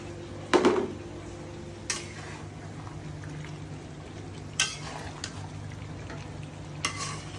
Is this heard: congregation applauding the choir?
no